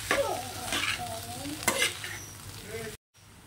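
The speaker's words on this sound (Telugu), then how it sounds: "రైస్ మిక్స్ చేసుకోవాలి. మొత్తం దాంట్లో వేసి మిక్స్ చేసుకోవాలి." Cooked rice being mixed into chicken in a pan for homemade chicken fried rice, a short burst of scraping and tossing over a light sizzle, close by, ending in a sudden cut to near silence.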